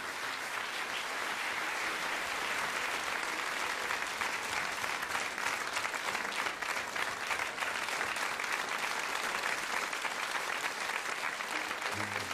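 Sustained theatre audience applause at a Chiemgauer Volkstheater performance of Die drei Eisbären, a dense, steady wash of clapping hands at even loudness throughout, with no voices standing out.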